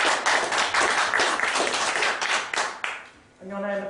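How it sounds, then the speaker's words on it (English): Live audience at a comedy mind-reading stage show applauds a woman volunteer walking to the stage, dense sustained clapping that fades out near the end as a voice begins speaking. "give this lady a round of applause"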